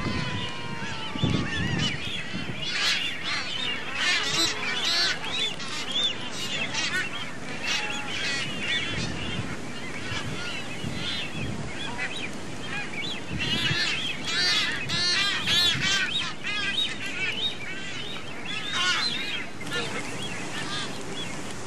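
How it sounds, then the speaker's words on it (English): Nazca boobies call at a seabird breeding colony at the end of the breeding season, with adults and brownish juveniles present. Dense overlapping honking and whistling calls continue throughout, loud and near, with no speech. "These are Nazca boobies."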